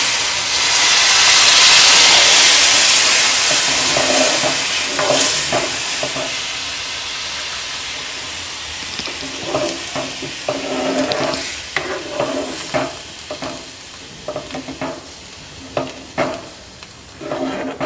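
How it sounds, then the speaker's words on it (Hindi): Milk poured slowly into hot semolina with cashews, almonds and pistachios for rava burfi sets off a loud steaming hiss that gradually fades, followed by a run of repeated stirring scrapes in the pan. "अब हम इसमें मिल्क डालेंगे धीरे धीरे।"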